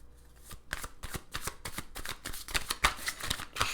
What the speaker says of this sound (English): So I'm gonna go ahead and shuffle this this card here, this deck here